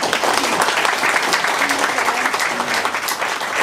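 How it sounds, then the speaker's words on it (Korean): An audience claps together in sustained, steady applause for young people at a community district meeting, from start to finish, a dense roomful of hands with no pause. "우리 청소년들에게 힘내라고 큰 박수 한번 부탁드립니다"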